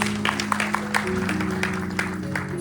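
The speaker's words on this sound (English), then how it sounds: "Please give her another round of applause." Audience applause after a kirtana performance at a Ganesh Chaturthi festival gathering, a short burst of scattered clapping over a sustained low drone, with no voices.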